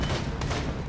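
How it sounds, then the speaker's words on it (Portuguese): Gunfire in the video game Rainbow Six Siege, a dense burst of shots packed into under a second, loud and steady throughout with no talk over it. "tiro na cara de novo de Glass e não matou"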